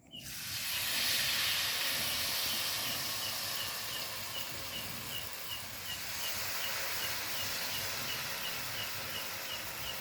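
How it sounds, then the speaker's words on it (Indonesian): Bakwan vegetable fritter batter drops into hot oil and sets off a sudden loud sizzle that settles into a continuous, even crackling hiss up close. "Ini minyaknya sudah panas, kita masukkan adonannya ya."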